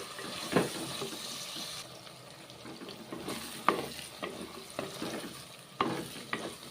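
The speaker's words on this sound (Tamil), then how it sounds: "கத்திரிக்காய் நல்லா வதங்கிட்டப்போ" Brinjal pieces sautéing in oil for kuzhambu, a soft steady sizzle with a few sharp spoon scrapes and clacks spaced through it, fairly quiet and near.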